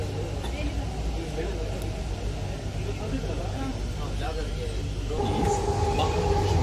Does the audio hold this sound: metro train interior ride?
yes